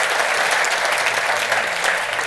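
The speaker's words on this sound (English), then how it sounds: "give them another round of applause because that was great" Audience applause after a kapa haka performance by St Thomas School at a wellbeing conference, a dense, steady clapping that stays loud and sustained throughout without letting up.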